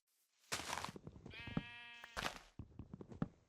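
Two loud, close sheep bleats in Minecraft, each a wavering half-second cry, separated by a sustained harmonic tone and soft game thumps, with no talking.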